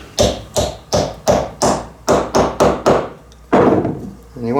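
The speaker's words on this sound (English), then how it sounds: "we'll hammer it down as far as it'll go. Alright, so let's just give that a tap." A cast brass machinist hammer head is tapped down onto its wooden handle, sending a steady run of about ten sharp, loud knocks close by, followed by a brief pause and one more solid strike.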